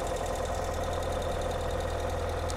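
A 2022 Ural Gear Up motorcycle engine running steadily in gear with the drive shaft spinning, a dense even mechanical drone with a low pulsing throb, close and constant throughout, no talking.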